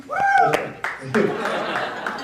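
Scattered clapping and a few whoops from a small group welcoming a newly introduced chamber of commerce member at a town event, mixed with chuckles and talking.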